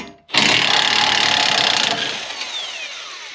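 Power tool, likely an impact driver, briefly whirring while removing bolts from a Jeep at a junkyard, a close, loud burst of about one and a half seconds that then winds down.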